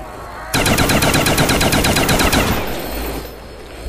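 Rapid automatic gunfire in the Nazi Zombies video game rattles off in a loud, evenly spaced burst for about two seconds, then drops to a lower rumble of game noise, with no talking over it.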